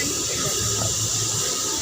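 Raw pork for sinigang is rinsed under steadily running tap water, a loud, constant gushing wash that fills the whole moment.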